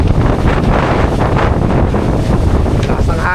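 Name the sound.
strong wind blowing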